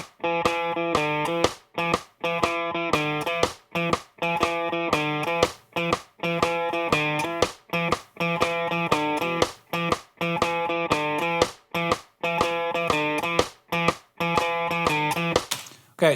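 A bridge riff on electric guitar with light distortion, a repeating rhythmic figure of sharp picked notes and choppy strums, loud and close, cycling several times with no voices.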